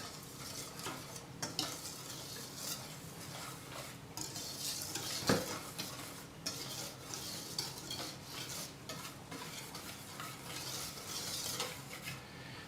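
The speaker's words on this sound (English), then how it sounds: "we're just going to take our whisk and just kind of mix those dry ingredients together" A whisk stirs flour and baking powder together in a bowl for beer batter, giving quiet, continuous scratchy swishes and light taps against the bowl with no talking.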